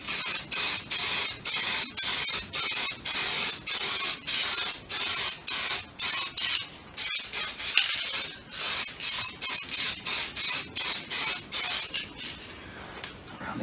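Spray paint hissing onto Kawasaki Z650/1100 motorcycle parts for a second coat, loud and close in a long run of short bursts, with brief gaps between them, fading at the end.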